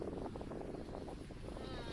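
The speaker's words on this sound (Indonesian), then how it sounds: "Tapi di sini anginnya kenceng banget." Strong wind buffets the microphone outdoors in a park where persimmons are being picked, a steady rough rumble throughout, with faint voices underneath.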